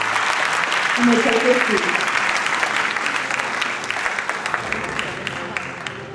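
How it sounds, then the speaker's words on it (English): Audience applause fills the hall at the closing of a global harbour cities forum, steady and dense throughout, fading slightly toward the end while a speaker briefly talks over it. "Let's give them a warm applause."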